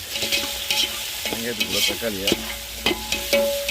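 Green chillies sautéing in a pan for a bitter gourd curry, a steady close sizzle of hot oil with scraping and stirring strokes of a spoon, and a faint voice murmuring in the background.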